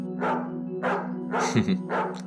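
Four evenly spaced dog barks ring out, close and fairly loud, over a steady low hum.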